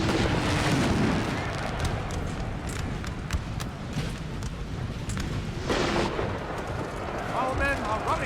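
Artillery in a Napoleon Total War battle booms in scattered heavy blasts with distant crackling musketry beneath, alongside a rumbling battlefield din.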